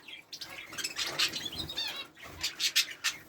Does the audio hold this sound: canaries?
yes